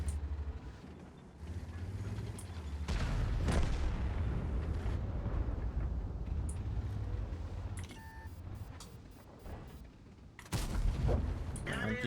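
Heavy tank cannon shots in World of Tanks, booming deep blasts over rumbling engine noise, with a loud shot near the end.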